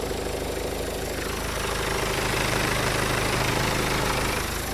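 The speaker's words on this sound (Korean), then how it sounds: "디젤 엔진의 경쾌한 사운드" A steady diesel car engine idles nearby, a continuous low rumble with a faint knocking texture, unchanging throughout.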